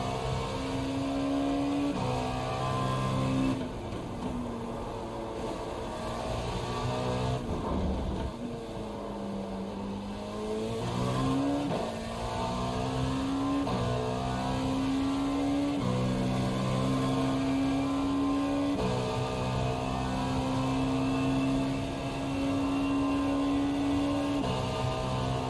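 A Dallara P217 LMP prototype race car in iRacing at Road Atlanta drones steadily up close, its engine note rising through the gears, dropping sharply on a downshift to first, then climbing again at high revs.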